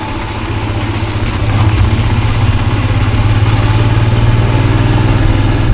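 A motorcycle built for off-roading runs on a rough track, its engine a steady, fairly loud mid-pitched drone with a throbbing low hum that swells slightly after the first second and holds even throughout, no talk.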